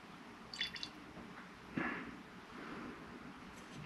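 Fuel and water drip from a Roper push mower being taken apart, faint intermittent drips and a small splash over low background noise, no talk.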